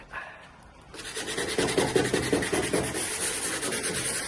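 Paint is sanded off a boat hull by hand, starting quiet before a steady, close, rhythmic rasping builds and continues in even back-and-forth strokes to the end.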